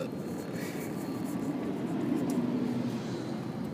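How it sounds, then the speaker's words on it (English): An airplane flies low overhead while leaving a convention, its broad, steady engine roar filling the scene for a few seconds without pause. "That plane was right there on you."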